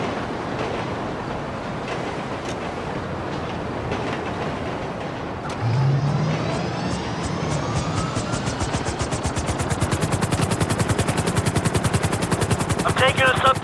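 Helicopter rotor chopping with bursts of rapid gunfire in Grand Theft Auto V, a steady whirring engine drone that grows louder and more rhythmic, dense and continuous throughout.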